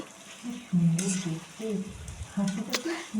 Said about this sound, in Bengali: আলু দিয়ে সুন্দরভাবে নাড়াচাড়া করে নিচ্ছি